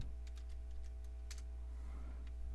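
Keys being typed on a computer keyboard while entering setup commands in a Windows 2.11 install, a short run of light clicks and taps over a steady low hum, close and fairly quiet.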